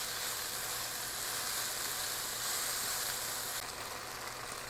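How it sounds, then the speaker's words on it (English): Steady, dense sizzling from food frying in a hot pan, close and continuous, with no voices over it. "All right, sizzling over here."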